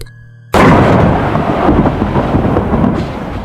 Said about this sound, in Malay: Kilat memancar tiba-tiba, menyinari kawasan tanah perkuburan sekejap.